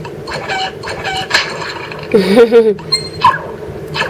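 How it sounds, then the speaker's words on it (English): A rubber chicken toy lets out a loud, wavering squawk midway, surrounded by clicking, ratchet-like toy mechanism noises and a voice in the background. "Got some pretty powerful rubber chickens there."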